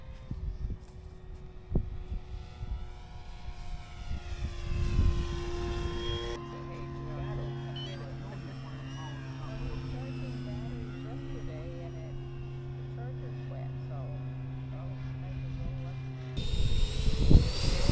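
A radio-controlled Thunderbird model jet on its maiden flight at an airfield gives off a steady, whining tonal hum that shifts in pitch as it passes, with voices heard at times.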